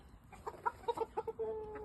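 A Wheaten Shamo game hen clucks in a short series of soft, rhythmic notes ending in a drawn-out tone, close by but fairly quiet, with no voices.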